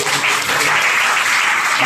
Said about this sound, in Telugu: చప్పట్లు పెడదాం మా దేవుడికి